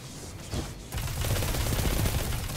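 A kinetic SMG, the Conqueror 2, fires in PvP play in the video game Destiny 2, a brief pop and then a steady rapid burst of automatic shots lasting to the end.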